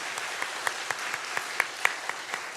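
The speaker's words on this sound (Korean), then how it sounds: "우리 방송실 관계자들에게 우리 한번 격려하고 박수하겠습니다" A church congregation applauds its broadcast team, a continuous spread of many hands with a few sharp, close claps standing out above a fairly soft background.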